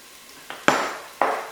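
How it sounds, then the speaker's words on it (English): Carrots sautéing in a pan for soup, heard as a few distinct clatters of a utensil against the pan, each followed by a short sizzling hiss, with quiet gaps between them. "that's the carrots been in there 3 or 4 minutes, sautéing nicely"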